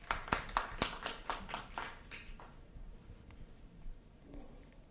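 A round of applause at a meeting is short: a handful of distinct, fairly quiet claps in an uneven rhythm that fade within about two seconds, followed by low room noise.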